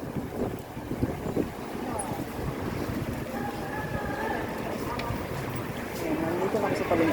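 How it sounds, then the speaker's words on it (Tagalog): Wind buffets the microphone outdoors near a market area in low, rough gusts, while someone speaks briefly and reacts under the blustery noise. "Ay, mahangin."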